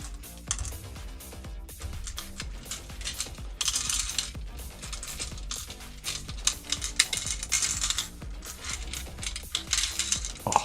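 Small stones are shuffled and rattled together in a bag and drawn out, giving a steady close clatter of clicking and knocking that goes on throughout, with sharper clacks here and there and no talking.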